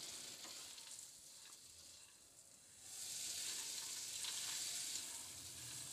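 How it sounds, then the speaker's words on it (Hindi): Walnuts and almonds roasting in butter over low heat make a faint, steady hiss of gentle sizzling that swells louder midway and then holds, with no speech. "इनको इस मक्खन में थोड़ा सा मैं रोस्ट कर लूँगी"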